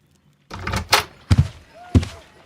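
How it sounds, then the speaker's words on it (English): Front door of a house in a Sherlock Holmes game opens and shuts: a rattle of handling followed by two solid thumps, loud and close in an otherwise quiet room. "No, I just heard the front door."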